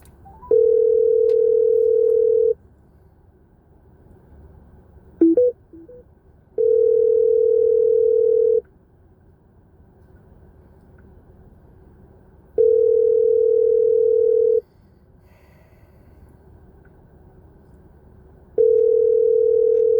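An outgoing phone call gives a steady electronic ringback tone, sounding in about two-second pulses separated by roughly four seconds of quiet, repeated four times, clear and alone.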